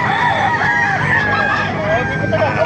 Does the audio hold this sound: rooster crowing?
yes